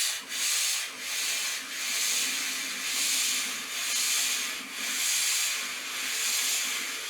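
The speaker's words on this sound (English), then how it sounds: "This is how much steam it produces." A Vax steam cleaner puffs out steam in a continuous airy hiss that swells and dips in roughly one-second pulses, close and moderately loud with no other sounds.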